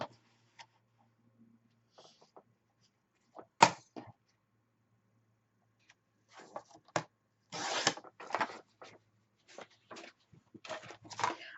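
Paper being cut for a small 4 x 4 BoBunny Petal Lane mini album, with crisp rasping slices and bursts of scraping in the second half after a few scattered soft taps, close and moderately loud, with no talking.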